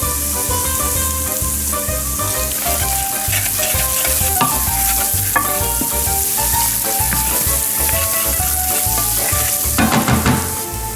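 Garlic cooking in a hot pan, with a steady loud sizzle and frying hiss running the whole time, mixed with stirring scrapes and layered with background music.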